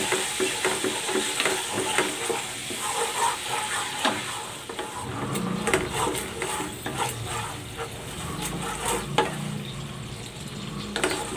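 A chili and tofu sauce mixture sizzling and frying in a pan with intermittent stirring scrapes, a bright crackle that thickens partway through, close and fairly loud.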